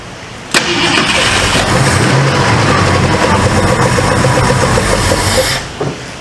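A 1966 Ford Mustang project car up on jack stands cranks and fires up, then runs at a loud, steady idle for several seconds before cutting off, with no talking.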